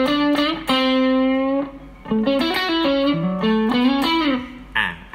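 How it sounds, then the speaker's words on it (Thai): Electric guitar played through a clean amp boosted by an overdrive pedal gives a lightly broken-up, still open tone for soft songs, with sustained single notes and short melodic phrases played alone. "อันนี้คือการใช้ตู้เสียงคลีนแล้วก็บูทด้วยโอเวอร์ไดรฟ์นะครับมันก็จะเป็นเสียง แตกในแบบที่เล่นเพลงซอฟต์"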